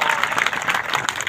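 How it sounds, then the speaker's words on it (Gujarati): Dense crowd applause at a political gathering in Radhanpur, continuous and fairly loud, with many hands clapping together and no pauses. "તાળીઓ પાડો ભલા માણા"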